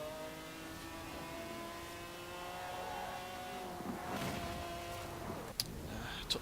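A 1993 McLaren F1 in the racing game Forza Horizon 4 holds a high, steady engine note with shifting pitch, accelerating under traffic, with a few sharp knocks near the end.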